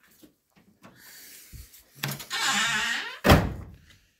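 A car trunk lid under welding repair swings down with a scraping, hissy motion and closes with one loud, close thud, after a few quieter knocks.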